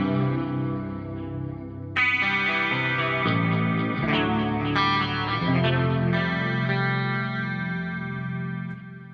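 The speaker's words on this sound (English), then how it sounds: "here's this guitar through the clean channel of the amp" An electric guitar plays sustained chords through a clean amp, each strum ringing out bright and full with a shimmering, slightly chorused tone.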